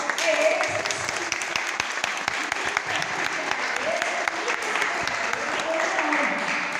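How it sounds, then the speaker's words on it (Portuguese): An audience applauds at a church anniversary celebration with birthday honorees and a jubilee couple, a steady, dense wash of clapping with a few distinct hand claps standing out, faint voices murmuring underneath. "Uma salva de palmas."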